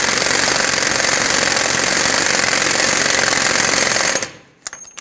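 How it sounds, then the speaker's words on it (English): An air impact gun hammers loudly and continuously as it runs an axle nut down on a 2007–2014 Chevrolet Silverado 2500 HD front hub, then cuts off abruptly near the end, leaving a few faint clanks. "I'm going to bottom this out with my air gun,"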